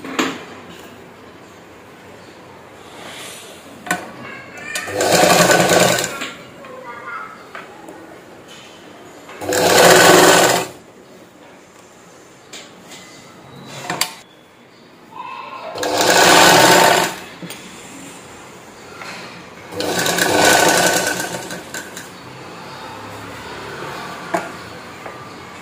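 A sewing machine stitches a blouse seam in five distinct loud bursts of a few seconds each, separated by quiet pauses.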